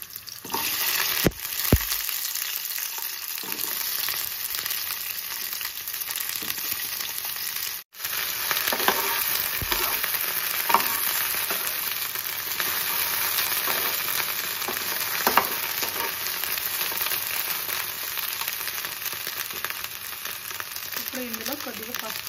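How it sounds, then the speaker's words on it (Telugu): Okra pieces frying in a pan, with a steady, dense sizzle running throughout the clip, close and fairly loud, broken once by a brief dropout, with occasional light stirring scrapes over the top. "ఇందులోనే బెండకాయ ముక్కలు వేసుకుందాం."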